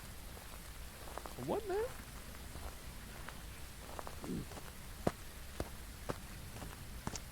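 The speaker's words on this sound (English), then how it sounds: "This is heavy rain." Heavy rain falls in the horror video game Phasmophobia, a soft steady patter under a voice, with scattered sharp ticks and brief tonal game sounds.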